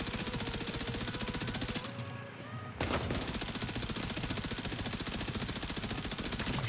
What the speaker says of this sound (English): Now someone's shooting